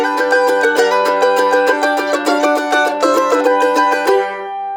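A mandolin plays a fast, steady run of ringing picked notes with no muting, each note sustaining into the next, loud and close, before it fades out at the end.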